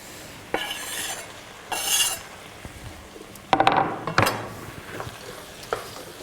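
Chopped dates are stirred into a cooking pan with a spoon, producing close scraping and clattering strokes in irregular bursts over a faint sizzle.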